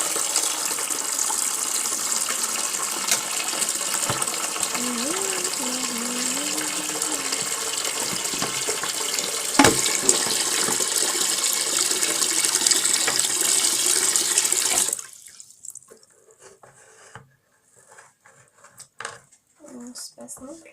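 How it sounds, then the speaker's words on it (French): A steady loud gush of water pours into a basin for washing horse brushes for about fifteen seconds, then cuts off, leaving quiet clatter and dripping, with a person speaking over the running water. "ensuite, je vais mouiller ma bassine"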